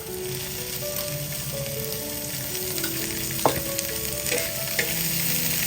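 Chopped onion roasting in two spoons of hot oil in a pan, a steady close sizzle running throughout with occasional scrapes and clinks of stirring.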